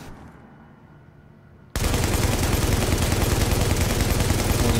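Light machine gun in The Division opening up after a quiet lead-in, a loud, dense, unbroken stream of rapid automatic fire that holds steady to the end.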